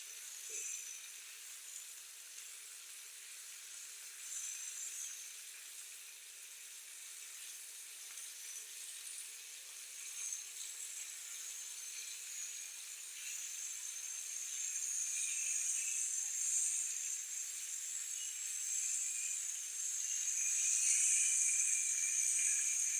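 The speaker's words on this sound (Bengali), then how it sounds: "প্রথমে আমি মাছটা হালকা ভেজে নিব" Pangas fish lightly frying in a pan makes a faint, steady, airy sizzle that swells slightly louder toward the end, with no voices.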